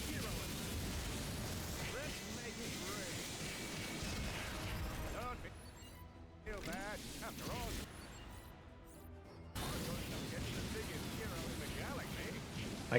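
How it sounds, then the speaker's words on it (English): Repeated explosions rumble through a chaotic Ratchet & Clank (2016) boss fight against Captain Quark, a dense, loud wash of blasts and crashes with game effects, briefly thinning in the middle before surging again. "I can't hear him over all the explosions."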